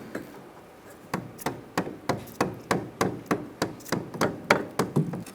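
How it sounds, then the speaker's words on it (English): A rubber mallet taps a rear control arm into place on a 2004-2009 Mazda 3 2.3L: about a dozen evenly spaced dull knocks, close and moderately loud, growing slightly firmer, with no talking. "Going to give it a little tap with a rubber mallet if you have"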